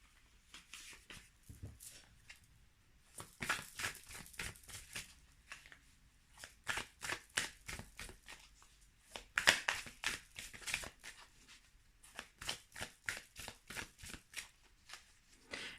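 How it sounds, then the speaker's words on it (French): Tarot cards are shuffled by hand for a card reading, producing repeated quiet bursts of riffling and flicking in uneven clusters with short pauses between, close and soft. "Je vais tirer des cartes."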